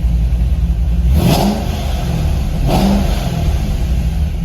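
An LS V8 engine in a car, fitted with a fuel pressure gauge, idles steadily up close, then is revved in two short blips with a clear rise and fall between them.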